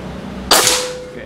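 A single sharp crack from a Bulldog OD 38 V2 PCP air rifle rings out after a quiet moment, then quickly fades with a short tail and no talking.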